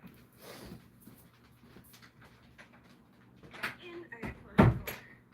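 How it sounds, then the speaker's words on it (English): Someone closes a door indoors, with a sharp knock-like thud near the end following a few lighter handling clatters, while a person talks in the background. "I gotta close the door."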